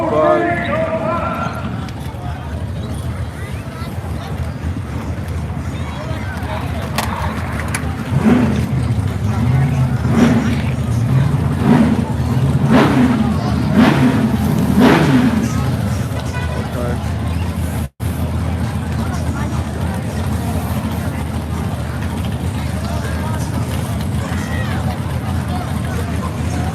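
At a dragstrip, a Chevy and a Fox body Mustang race amid loud engine roar and crowd noise, with rhythmic revving bursts mid-way and people talking throughout.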